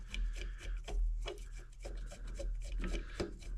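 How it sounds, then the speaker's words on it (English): Screws being removed from the cap of a Wico X magneto for a John Deere two-cylinder tractor, heard as faint, close scraping and rubbing with small metallic clicks and tool handling, with no talk. "So first we'll just take the 4 screws out of this cap."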